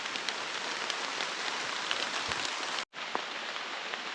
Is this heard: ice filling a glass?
no